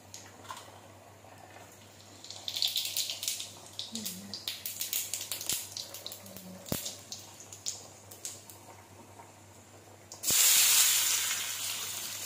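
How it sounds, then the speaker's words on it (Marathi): Chopped onion frying in hot oil with cumin and mustard seeds, for a chapati noodles dish. A steady soft hiss and crackle carries under faint talk, then swells into a loud, close sizzle near the end. "तर जिरे मोहरी टाकून कांदा टाकलेला आहे याच्यामध्ये"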